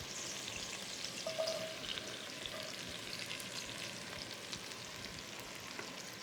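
Onion frying in a pan for a Ukrainian dish, giving off a soft, steady sizzle and crackle that continues evenly at low volume with no talking.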